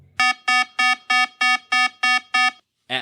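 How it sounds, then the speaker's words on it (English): An aircraft's right-side fuel pressure alarm sounds as eight loud, evenly spaced electronic beeps, each a sustained tone, followed by a brief pause and the start of a different sharp sound. "Seconds later, the fuel pressure alarm on the right side sounded."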